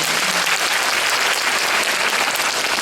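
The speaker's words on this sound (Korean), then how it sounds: "박수 한번 부탁드리겠습니다" Audience applause fills a hall at a 2017 Gyeongsangnam-do education office concert on happy schools, a dense, steady wash of clapping that holds loud and even throughout with no voices over it.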